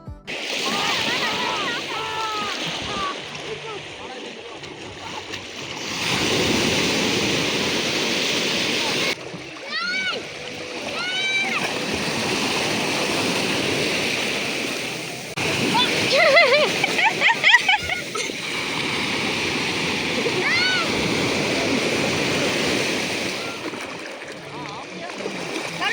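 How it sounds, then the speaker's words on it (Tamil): Gentle sea waves at Radhanagar beach on Havelock Island wash and splash steadily in the background, with surges of surf rising and falling while a person talks close by over them. "வேவ்ஸும் ரொம்ப அக்ரெசிவாக இல்லை"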